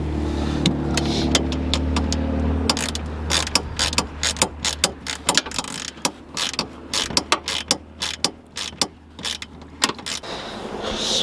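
Ratchet tightening a cold air intake on a 2018 Subaru WRX, a run of close, sharp metallic clicks, dense at first and then in quick irregular bursts, with a low engine-bay hum underneath early on.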